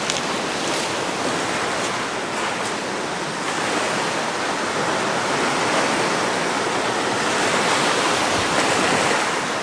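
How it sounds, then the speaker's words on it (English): Breaking waves on the shore of the world's biggest lake after a night storm, a steady, loud, continuous wash of surf without any voices. "A bit of a challenge to get through these breaking waves, that's obvious."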